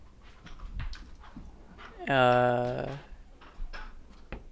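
A dog gives a drawn-out, tonal whimper in the middle, with soft breathy panting and rustling around it as it is petted, close and moderately loud.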